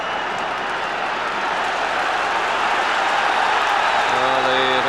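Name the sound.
Rangers football crowd cheering at the stadium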